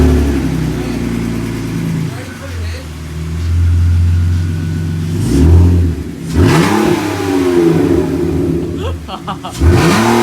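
A BMW E46 330ci engine with its clutch slave cylinder disconnected revs up and down in loud bursts, with people talking over it.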